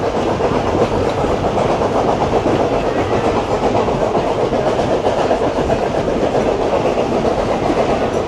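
A historic steam train on the Zig Zag Railway in the Blue Mountains rumbling steadily along the rails with a dense clatter of wheels, loud and continuous throughout.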